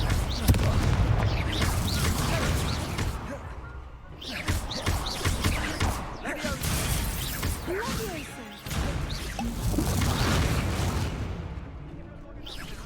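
The Incendio fire spell is cast repeatedly in Hogwarts Legacy, giving dense roaring, crackling blasts and booming bursts that build and fade in waves, with a voice speaking over the continuous fiery noise.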